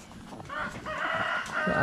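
A chicken on a small Filipino backyard farm clucks and crows briefly, close by, with a few quick calls over a quiet background.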